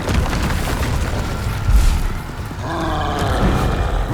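A Bombarda explosion spell cast in the Hogwarts Legacy video game, heard as a dense, loud blast with a booming low-end surge near the middle, followed by a rumbling, crackling tail of debris.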